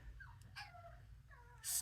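A dog named Sandy whimpers in short, faint, high whines, a few separate rising and falling cries close by in a quiet room, with a sharper hiss at the very end.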